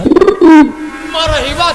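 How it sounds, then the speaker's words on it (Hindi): A bird calls briefly with a soft, cooing tone, followed by a higher fluttering call, close and clear. "चिड़ई बोल रही"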